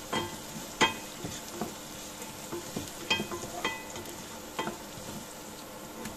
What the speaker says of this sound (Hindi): बनने के बाद हम इसे थोड़ा सॉटे करेंगे एक बार, एकदम लाल नहीं करना है, बस इसे हल्का सा सॉटे करना है